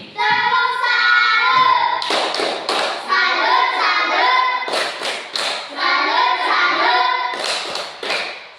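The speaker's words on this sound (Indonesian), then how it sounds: "Tepuk tangan untuk Kathleen." A classroom of children claps for a student named Kathleen during an Indonesian and Riau mother-tongue language lesson, with several loud bursts of clapping rising and falling among the children's voices, near and continuous.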